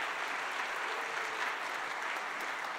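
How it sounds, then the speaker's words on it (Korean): A church congregation applauds Artaban in a steady, even burst of many hands clapping together, moderately close and continuous throughout, with no voices rising above it. "아르타반에게 박수 한번 하겠습니다"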